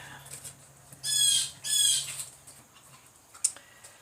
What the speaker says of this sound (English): I don't know what that bird is so upset about,